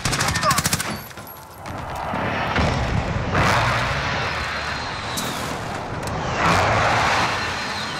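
Explosions and heavy gunfire from a Search and Destroy match in a first-person shooter game, with loud blasts around the middle and near the end as an airstrike lands, over continuous battle noise.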